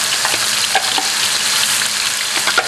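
Oil heating in a wok for Vietnamese wok-tossed eel, giving a loud, close, continuous sizzle with small crackles and stirring scrapes throughout.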